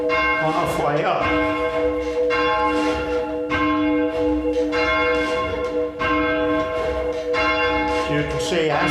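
A church tower bell for change ringing, being raised and swung full circle, strikes on both sides in a steady, loud, ringing rhythm with long overlapping tones, with a faint voice in the background.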